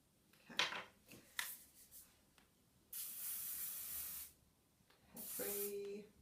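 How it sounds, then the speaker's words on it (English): Hairspray mists onto hair being styled into an 80s beehive in three short hissing bursts, the last two sustained for about a second each, with quiet handling rustles between. "use your hand and your hairspray, smooth it over"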